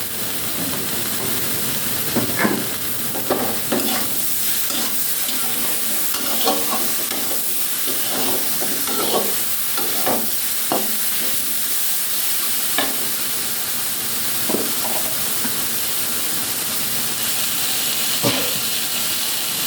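Water spinach frying in a pan with salt and turmeric, a steady loud sizzle and hiss with repeated scraping stirs of the spoon across the pan.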